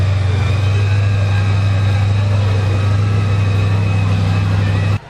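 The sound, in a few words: Chevy Chevelle engine with Wade supercharger idling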